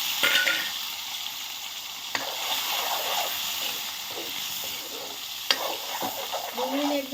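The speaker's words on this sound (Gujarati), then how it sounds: "ડુંગળીને એકદમ સરસ ચડવા દેવાની છે" Finely chopped onions and dried red chillies fry in hot oil with a continuous close sizzle, broken now and then by sharp clicks of a spatula stirring the pan.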